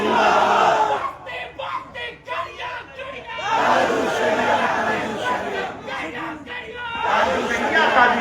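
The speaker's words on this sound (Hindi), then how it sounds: "नारे तकबीर, सारे लोग जवाब दे माशाअल्लाह" A large crowd at a religious gathering roars back a loud, massed shout of Mashallah in answer to a call, with waves of voices rising and falling and a speaker's voice between the bursts.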